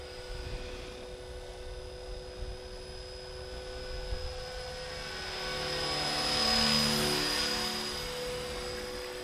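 A Blade 330S RC helicopter hovers and flies with a steady whine and a high-pitched tail rotor tone, its drone swelling louder midway and then easing off, no talk.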